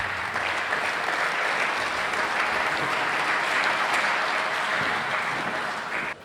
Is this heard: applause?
yes